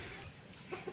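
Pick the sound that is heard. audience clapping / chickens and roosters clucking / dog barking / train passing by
chickens and roosters clucking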